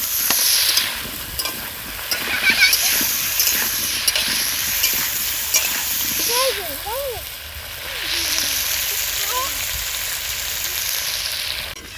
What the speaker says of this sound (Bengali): একটু লবণ আর হালকা করে হলুদ দিয়ে আলুটা লাল লাল করে ভেজে নেব।